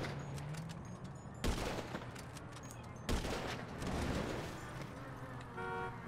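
Gunshots in a shooting video game: two sharp, loud bursts of fire stand out against steady background game noise and vehicle sounds, spaced about a second and a half apart.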